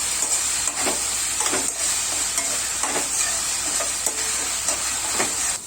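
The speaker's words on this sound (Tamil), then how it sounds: "வெங்காயம் தக்காளி நல்லா சுருள வதங்கிடும்." Onions and tomatoes sauté in a pan for a fish curry, a loud continuous sizzle broken by regular scraping strokes of a spoon stirring roughly every second.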